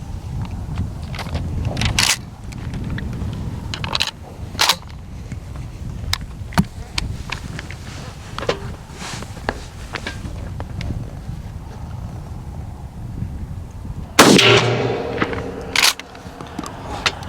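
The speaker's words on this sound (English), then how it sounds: "First shot, Longbeard XR, number 6. Shooting into steel." A shotgun fires Longbeard XR No. 6 TSS shot into a steel plate: a single loud, sharp blast with a ringing tail comes late, after quiet handling clicks and light wind noise, and a second smaller crack follows.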